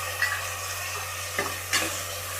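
Beans and curry leaves sizzle in hot oil for bisi bele bath, with a steady frying hiss and two brief scraping stirs of a spoon in the pan.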